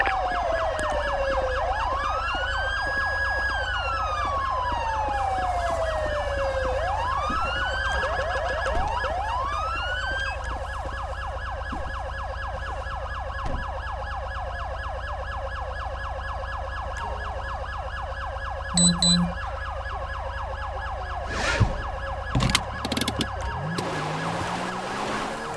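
Wailing emergency siren from an ambulance in the GTA video game, rising and falling in long sweeping cycles over a steady engine drone, continuous and fairly loud, with a few short clicks and bursts near the end.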